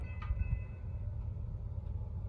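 Norfolk Southern freight train NS 153, with a Canadian National locomotive, rumbles past as a steady deep low roar, a few faint squeals riding above the continuous rolling drone.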